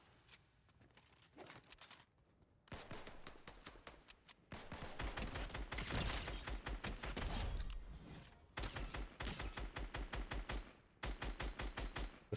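Gunfire from a gun in the Fortnite video game in Zero Build mode, with several long bursts of rapid automatic shots separated by short pauses, loud and close.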